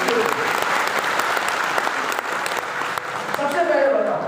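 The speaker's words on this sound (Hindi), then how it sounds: "एक बार जोरदार ताली होनी चाहिए मैडम" A banquet hall audience in Kathmandu breaks into sustained applause at a motivational talk, dense clapping holding steady for several seconds with a voice speaking over it near the end.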